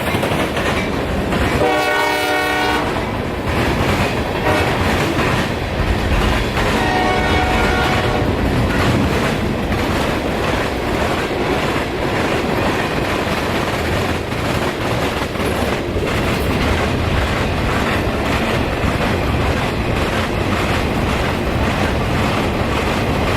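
A train rumbles past for a long stretch with steady rolling noise and wheel clatter, and a horn sounds twice early on.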